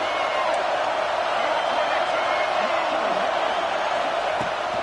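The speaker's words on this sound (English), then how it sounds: "The Buckeye crowd alive on third down" A college football video game stadium crowd, the Buckeye home fans, roars on third down in a dense, constant wall of noise under a commentator's voice.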